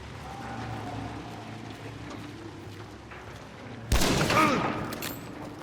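A single loud gunshot rings out in the video game Hunt: Showdown, a sharp crack with a long trailing echo that breaks a steady ambient outdoor background.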